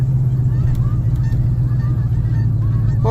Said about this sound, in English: Flock of geese up there.